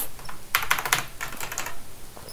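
Fingers type code on a computer keyboard, close up, in irregular bursts of crisp clicking keystrokes with short pauses between runs.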